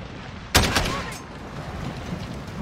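Gunfire in the video game Call of Duty Modern Warfare: one sharp, loud burst of shots that decays into a rumbling tail over a steady background of game noise.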